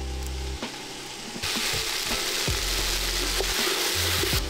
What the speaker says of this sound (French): Je mets les aubergines en cuisson